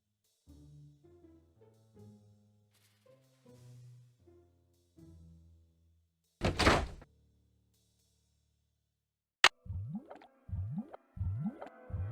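A locked door is tried in Nancy Drew: The Haunted Carousel, a burst of rattling and thudding after soft music, followed by a sharp click and a few rising creaky tones.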